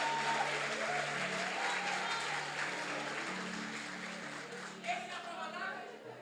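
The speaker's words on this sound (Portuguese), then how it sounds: "Aplauda mais forte" A church congregation claps through a sermon on fasting in the Christian life, with a broad wash of applause mixed with raised voices and crowd sound, slowly easing in level.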